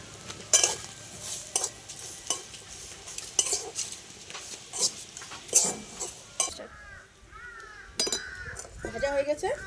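Grated coconut and semolina fry in a pan while a metal spoon stirs and scrapes, giving repeated sharp clinks over a soft sizzle, and a voice talks toward the end.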